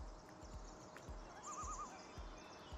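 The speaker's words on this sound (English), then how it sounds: "I'm pretty sure I heard a horse there." A horse whinnies once, a faint, distant wavering neigh, while steady hoof clip-clops thud nearby in a regular rhythm on an early summer morning.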